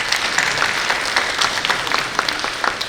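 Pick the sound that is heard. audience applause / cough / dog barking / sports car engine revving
audience applause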